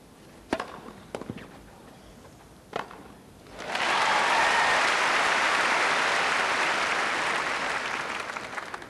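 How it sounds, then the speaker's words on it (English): A tennis crowd at a Henman versus Rafter match: a few sharp, isolated knocks, then loud, dense applause that rises quickly and holds steady to the end. "this whole crowd here most enthusiastic"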